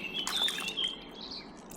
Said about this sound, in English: taking in my surroundings, listening to bird song.